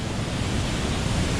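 A flooded, rain-swollen waterfall roars close by in a dense, unbroken wash of white noise that holds steady and loud throughout.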